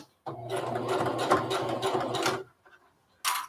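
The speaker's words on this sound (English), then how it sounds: "And I'm just sewing, and when I get to the end of one, I stick the next one in." A sewing machine runs through small, narrow corner tabs on a lunch tote, giving about two seconds of close, rapid mechanical whirring and needle chatter before stopping, then a brief burst starts again at the end.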